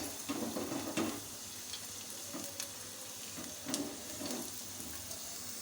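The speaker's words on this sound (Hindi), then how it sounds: "तड़के के लिए चाहिए हमें ऑयल और उसमें हमने डाल दिए हैं लहसुन के जवे" Garlic cloves sizzle in hot oil for a dal tadka, a steady close crackle with brief stir bursts now and then, heard alone with no voices.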